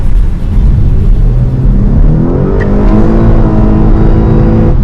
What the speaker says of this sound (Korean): 지금 보시다시피 스포츠 모드로 가속을 할 때에도 급가속할 때 이 RPM이 변화하는 느낌이